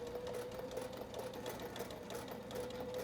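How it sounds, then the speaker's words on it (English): Sewing machine stitching a pocket onto beach tote bag webbing, seam sewn an eighth of an inch from the edge; a steady, continuous whirring hum runs close and unbroken for the whole span with no talking. "I place the pocket face down along that line and sewed it in place 1/8 of an inch from the edge."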